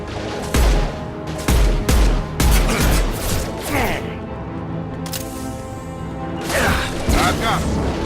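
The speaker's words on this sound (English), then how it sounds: "I'm shooting, Shepard!" Gunfire in Mass Effect 2: a run of loud, sharp shots in quick bursts at the start, then scattered blasts and mechanical clatter while voices call out during the fight.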